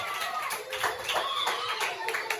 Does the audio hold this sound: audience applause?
yes